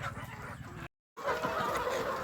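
Chickens cluck and murmur softly close by amid a busy flock feeding on processed banana flower, with a brief dropout of silence partway through.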